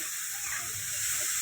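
Water pours in a steady hissing gush into a pan of dried prawn curry, loud and close for a brief moment with no voices.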